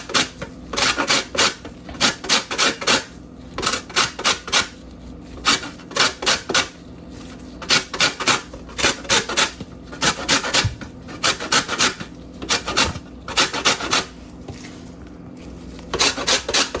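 A lime rubbed against a metal grater to take off its zest, loud rhythmic rasping strokes in quick bursts with short pauses between them, close up and alone.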